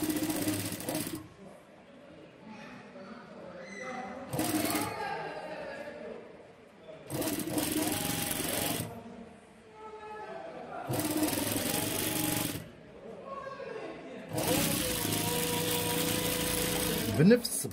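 A sewing machine stitches lace frills for a kashkor top in bursts of rapid mechanical whirring, several runs separated by pauses where someone talks.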